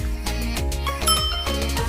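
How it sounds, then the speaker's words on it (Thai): A twist bell on an electric scooter rings in a rapid series of bright metallic dings, repeated strikes blending into a steady close ringing with no voices over it. "อันนี้ เป็น กระดิ่ง ที่ แบบว่า หมุน นะ หมุน ก็ มี กระดิ่งนะ"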